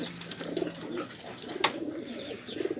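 Racing pigeons recovering after club training and race flights coo softly in repeated low, throaty phrases, with a brief sharp click or flutter amid the close, gentle calls.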